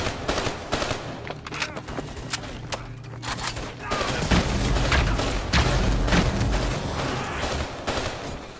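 Sustained automatic gunfire and heavy bursts rattle loudly and continuously in a Call of Duty Black Ops 3 firefight on PC, with thumps and booms layered through the dense barrage.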